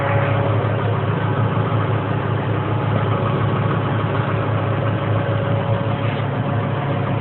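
A car engine idles steadily nearby, giving a low, even hum with a constant mechanical drone and no talking over it.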